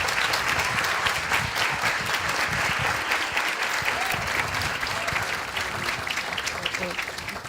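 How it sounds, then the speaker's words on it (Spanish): Dense, sustained applause from an audience at a talk on vegan nutrition, loud and steady throughout, with some voices mixed into the clapping and a slight fade near the end. "Fuerte aplauso para Eva"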